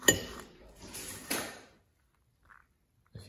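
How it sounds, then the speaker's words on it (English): Cat causing a clattering commotion indoors, a few sharp clinking, rattling bursts close by in the first second and a half, then near silence with a faint knock. "If you heard that, that was my cat going nuts about something."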